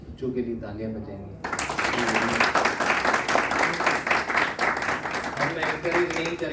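Applause for the children at a 25th marriage anniversary celebration bursts in after a spoken line, dense steady clapping from a gathered audience continuing for several seconds, with a voice speaking over it toward the end.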